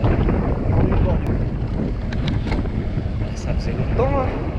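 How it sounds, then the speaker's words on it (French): Wind gusting beside a small canal along the Voie Bleue route, a steady, loud, broadband rumble buffeting the microphone throughout, with faint voices in the background. "tu vois qu'il y a du vent quand même"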